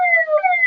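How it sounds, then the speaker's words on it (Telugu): A loud ambulance siren holds a steady electronic wail from just behind a car stuck in a traffic jam, close and unbroken for the whole moment, with no voices over it. "వెనుకనే ఉన్నది అంబులెన్స్,"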